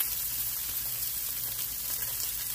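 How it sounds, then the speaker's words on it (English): Food fries hard in a very hot pan, giving a steady, loud, unbroken sizzling hiss. "keep that heat nice and hot, because I don't want them boiled, I don't want them steamed, I want them fried"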